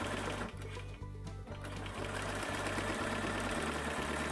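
A sewing machine stitches slippery quilt backing fabric in a steady, rapid mechanical chatter with a rhythmic thump about twice a second, close and continuous without speech.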